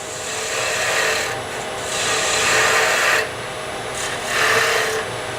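A turning tool cuts a wooden pen blank spinning on a lathe, giving a loud, continuous rasping scrape that swells and eases in repeated passes as the cut moves along, with no talk.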